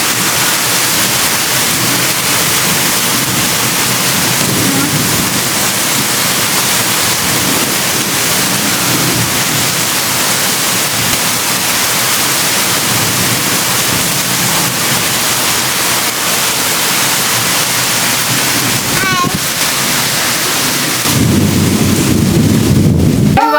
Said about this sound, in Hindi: स्टिल अभी बारिश हो रही है।